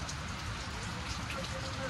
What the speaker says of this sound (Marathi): मुसळधार पाऊस चालू आहे आज आपल्याकडे